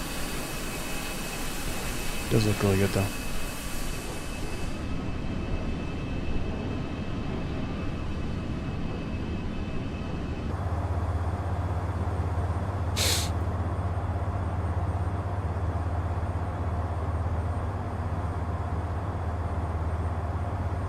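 Steady engine drone inside the cabin of an Embraer E-175 jet at cruise in a flight simulator, a low continuous hum with a brief hiss partway through, and a person talking briefly near the start.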